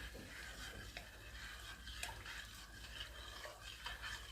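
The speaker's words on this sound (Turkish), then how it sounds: "karıştırarak verelim" Ayran being stirred into a pot of Erzurum-style ayran aşı soup, a faint, steady scraping and swirling of liquid with light spoon knocks, quiet and continuous, with no voices.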